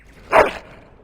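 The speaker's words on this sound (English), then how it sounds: "is a wonderful dog" A single short dog bark from the Dragon Age Origins video game, close and fairly loud, one burst lasting a fraction of a second against a quiet background.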